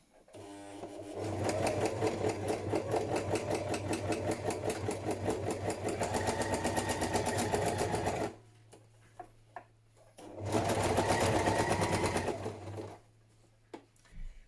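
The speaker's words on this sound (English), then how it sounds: "And now we're going to do a straight stitch all the way down." A sewing machine runs a straight stitch through padded patchwork in two sustained bursts of rapid, even mechanical chatter with a low motor hum, separated by a pause of quiet handling clicks.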